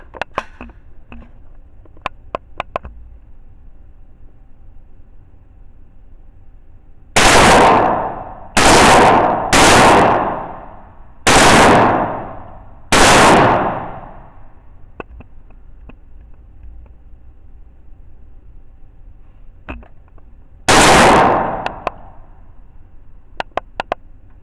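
A rifle fires a burst of five sharp, loud shots in quick succession, then a single further shot after a pause, each crack ringing out outdoors against quiet surroundings.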